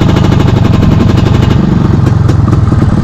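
A car engine runs loud and close during a driving lesson, its rapid, even throbbing pulse holding steady as the learner gives a little throttle.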